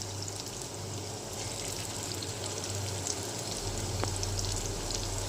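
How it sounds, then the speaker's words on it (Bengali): Lentil fritters (boras) frying in hot oil in a pan, a steady soft crackle and hiss throughout, faint and even with occasional light pops. "সুন্দর করে লাল লাল করে বড়াগুলো ভেজে নেব।"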